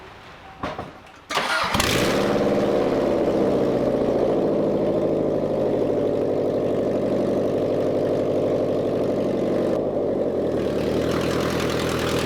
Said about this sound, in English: finally got the Subaru rolling.